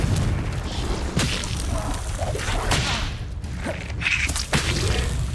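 Confringo spell blasts from the Hogwarts Legacy video game, a series of loud booming bursts and whooshes over a rumbling battle din, close and continuous, with shouted voices.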